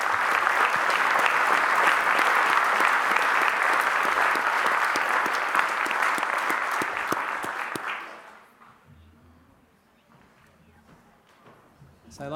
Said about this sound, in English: could you please join us with one final round of applause for all of our fantastic graduates tonight